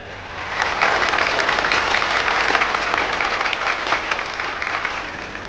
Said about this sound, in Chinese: 让我们用更热烈的掌声有请她上台发言